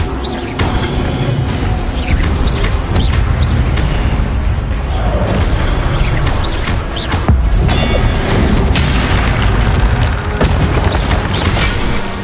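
Incendio fire spell blasts in a Harry Potter video game, heard as loud, continuous booming and crackling bursts with dense, repeated impacts across the whole stretch.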